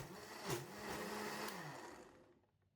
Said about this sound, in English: And blend for 20 seconds or until well combined.